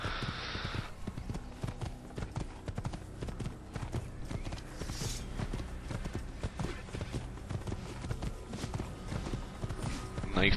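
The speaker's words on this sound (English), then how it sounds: "let's go for the black horse" Hoofbeats of a black horse galloping in the Assassin's Creed video game, a steady rapid clip-clop rhythm running throughout at moderate loudness, with brief voice traces.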